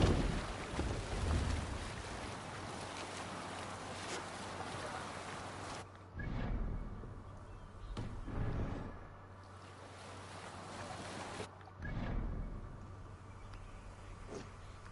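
A boat sails along the River Severn in Assassin's Creed Valhalla. Steady wind and water rush build into several louder swells, with occasional faint speech over the top.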